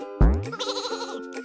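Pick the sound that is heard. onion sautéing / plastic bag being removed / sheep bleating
sheep bleating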